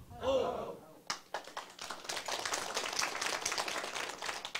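An audience at a political rally breaks into clapping after a brief voice, the applause rising quickly and continuing as a dense, even patter of many hands.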